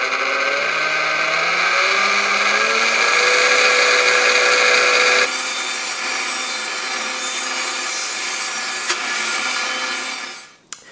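A Vitamix Series 300 or 500 blender whirs through pesto, its motor pitch rising in steps over the first half, then settling into a steadier grinding drone before it winds down and stops near the end.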